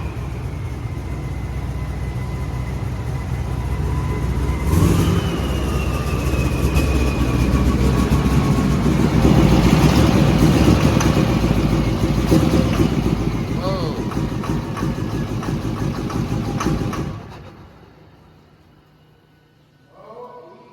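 A broken, hot engine fitted with huge fuel injectors starts and runs rough, loud and close with uneven detonating, missing firing and a rising and falling drone, then cuts out into near silence.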